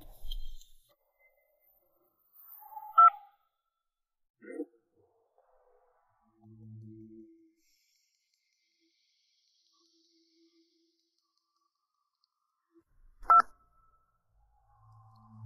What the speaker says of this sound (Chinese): 我这就给雷先生打电话。